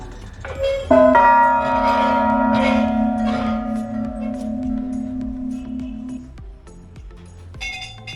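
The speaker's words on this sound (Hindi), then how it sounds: "इतनी बड़ी घंटी" A large temple bell at the main entrance of the Golu Devta temple in Chitai, Almora, Uttarakhand, is struck once, loud and close, its deep tone ringing out and slowly fading for several seconds, followed by a fainter metallic clang.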